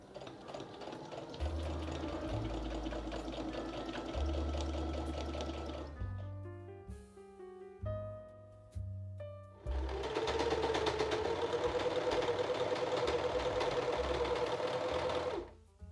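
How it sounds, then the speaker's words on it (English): A sewing machine stitching a dress seam, a fast steady whir running in two long close bursts separated by a short pause of quieter clicks and handling. "I will sew this seam with 3 centimeter seam allowance."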